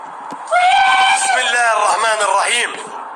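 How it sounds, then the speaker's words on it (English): A loud, blood-curdling scream rings out close by in abandoned hallways, held for about two seconds with a wavering pitch before cutting off. "The scream is loud, as if it came from a room right next to the camera."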